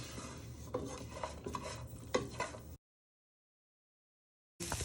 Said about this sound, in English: So you just want to give these a good stir for